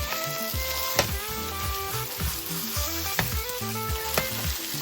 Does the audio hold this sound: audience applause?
no